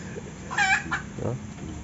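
A mestiza hen clucks a few times, close and moderately loud, in short harmonic bursts over steady background noise.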